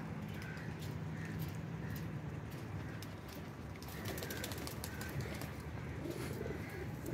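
Neelay Kabootar blue pigeons coo softly at a distance, repeated low murmuring calls spaced through a quiet background with faint clicks.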